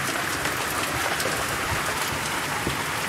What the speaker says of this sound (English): We get rain.